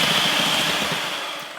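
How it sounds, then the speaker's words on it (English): A high-speed blender whirs steadily while foaming a gelatin mixture in a bowl, a loud close continuous whine that eases slightly toward the end. "mix it with a high-speed blender until it starts to foam"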